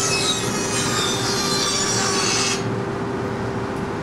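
A band saw machine in a small workshop, newly bought for making blanks for mass production, cuts through workpieces with a loud, steady high rasping whine that stops abruptly partway through, leaving a lower hum.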